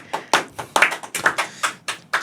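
An audience of children clapping at a podcast taping, several loud, slightly uneven claps close by with no talk over them.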